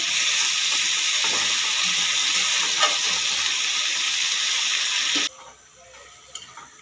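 Eggplant frying in a pan with salt, a steady loud sizzle with faint ticking stirs, which cuts off abruptly near the end and leaves a quiet pause with a couple of soft clinks.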